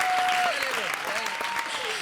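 Studio audience of a Hindi comedy show clapping enthusiastically in a dense burst, with a sustained whistle-like tone and a host's voice talking over the applause.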